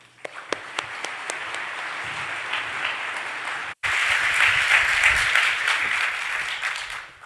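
An audience applauds to welcome speaker Alex Gold at a data science talk, a few early claps swelling into sustained, even applause from a crowd.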